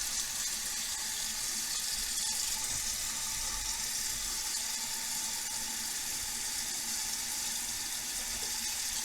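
Tap water runs steadily into a sink being filled for brass cleaning, a continuous broadband hiss and splash at even loudness throughout.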